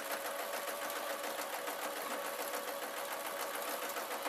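A domestic sewing machine stitches fabric bunting in a steady, continuous run, its even mechanical whirr fairly quiet and uninterrupted, no voices.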